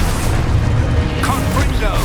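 A Descendo spell slams down in the video game Hogwarts Legacy, a loud, booming impact over a dense rumble, with a voice mixed in.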